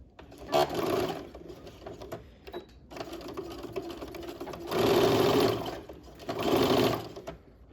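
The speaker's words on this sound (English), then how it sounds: "now I'm just going to stitch on that curve from one corner over to the other" Nearby, a sewing machine stitches a curved seam in short bursts, its rapid whirring rising and stopping several times between quiet pauses.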